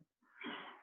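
A single short sneeze, quiet and breathy, bursting out after a brief silence.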